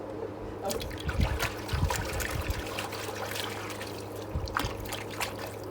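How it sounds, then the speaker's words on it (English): A young horse playing in water during a ranch training session, with splashing and trickling in short bursts over a steady wet background, fairly close and moderately loud. "Keep playing with the water"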